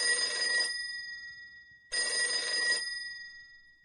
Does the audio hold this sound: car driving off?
no